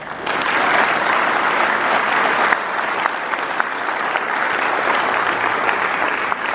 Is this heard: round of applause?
yes